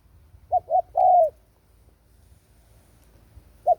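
A spotted dove coos a short phrase, two quick notes then a longer rolling coo, followed by a lone coo after a pause, close and clear over faint background.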